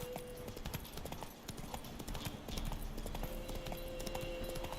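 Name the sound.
horse hooves clip-clopping, Roach in The Witcher 3 video game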